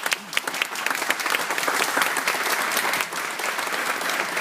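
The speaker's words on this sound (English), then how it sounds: "I'd like all of us to give him a round of applause." An audience at a painting unveiling gives a round of applause, a dense, sustained wash of many hands clapping close by that holds steady for several seconds with no one speaking.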